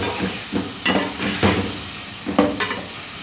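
Tomatoes and dried plums fry in a pot for chicken biryani, giving a close sizzle with several sharp bursts of stirring and scraping at uneven intervals.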